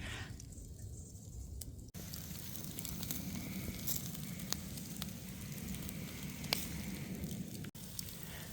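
Pork belly and chicken sizzle over coals outdoors in a forest, with a steady crackling hiss. Sharp pops and drips punctuate it, close by and fairly quiet, with no talking.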